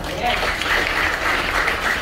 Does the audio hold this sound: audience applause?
yes